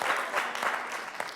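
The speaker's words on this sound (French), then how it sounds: "Applaudissez-les." A live audience at a French-language stage show applauds with lively clapping that rises and falls in waves over a short stretch.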